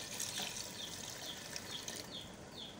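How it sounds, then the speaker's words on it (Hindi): Two glasses of water pouring into a pot of chana dal gosht, a steady gushing, bubbling splash throughout, fairly faint with no voices. "अब इस स्टेज पे आके इसमें मैं 2 गिलास पानी डाल दूंगी"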